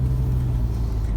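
A car drives along North Street, the main street of Pittsfield, with a steady low engine and road rumble, close and continuous for the whole moment, with no other sounds standing out.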